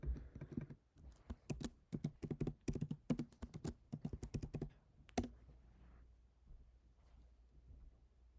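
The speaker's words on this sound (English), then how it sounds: "So we're going to type in the Eiffel Tower." Rapid bursts of keystrokes clatter on a computer keyboard in an uneven rhythm, close and clear, then stop, leaving a faint low hum and quiet room tone.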